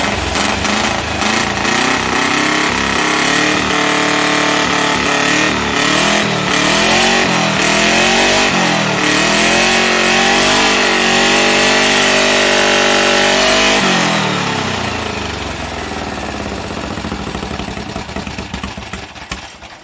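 A freshly built high-performance 1776cc VW Beetle air-cooled engine on its first cold start, running loud and close for the whole stretch with uneven revving and a rough, lumpy beat that settles slightly toward the end.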